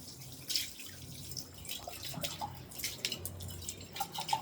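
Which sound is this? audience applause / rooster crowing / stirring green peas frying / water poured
water poured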